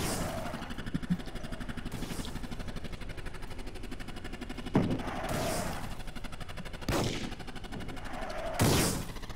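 A Roblox tank firing, with a steady low rumble and crackle of gunfire running throughout, punctuated by several sharp, louder missile bursts at intervals that stand out above the constant drone.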